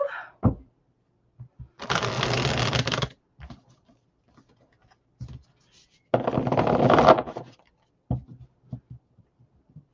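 Two separate bursts of papery tarot card shuffling, each lasting about a second, with quiet gaps and small taps and handling noises between them.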